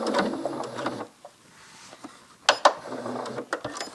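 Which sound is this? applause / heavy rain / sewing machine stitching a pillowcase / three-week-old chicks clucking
sewing machine stitching a pillowcase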